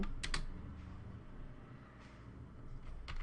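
Quiet typing on a computer keyboard while a cover letter is written, a few soft, scattered keystroke clicks over a low room hum.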